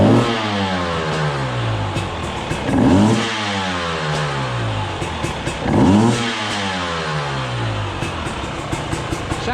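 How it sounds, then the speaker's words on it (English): A dirt bike engine fitted with a Rekluse auto-clutch runs close by with light pressure on the clutch lever. It idles roughly, then twice rises into a loud rev and falls back, with the ticking mechanical chatter continuing between revs. "when we rev the motor with a little bit of pressure on the clutch lever"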